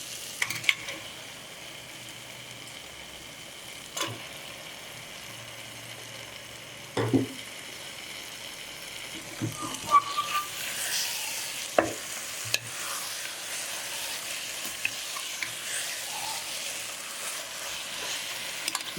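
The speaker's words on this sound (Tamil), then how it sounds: "இப்போ நான் எடுத்து வச்சுருக்க மட்டனை இதில் போடுறேன்." Mutton frying in a pan for mutton biryani gives a soft, steady sizzle, broken by occasional sharp clinks and scrapes of stirring. There is no talking.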